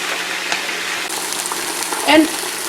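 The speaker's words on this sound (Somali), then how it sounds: "bariiska waan shiilay" Rice frying in a pot on the stove gives a steady, close sizzling hiss, with a brief louder clatter or scrape near the end.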